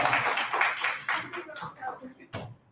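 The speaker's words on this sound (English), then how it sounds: "Let's give them a round of applause." An audience claps to welcome speakers onto the stage at a live Global Entrepreneurship Week event in Las Vegas, with uneven, sparse clapping and voices talking over it throughout.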